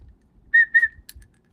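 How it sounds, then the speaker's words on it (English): A found whistle, blown in two short shrill toots close by, followed by a brief chirp and quiet. "but I did find a whistle."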